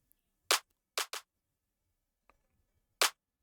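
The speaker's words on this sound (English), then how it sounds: "From there I have my clap too" A second clap drum sample in an Afrobeat beat in FL Studio, four dry, crisp claps, a single hit, a quick pair, then one more after a pause, close and clean against silence.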